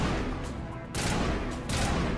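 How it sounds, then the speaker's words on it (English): A sniper rifle fires in Mass Effect Legendary Edition combat: loud, dense blasts that nearly fill the moment, with two distinct sharp shots landing close together over a continuous roar. "So I can have the pleasure of using this totally OP sniper rifle."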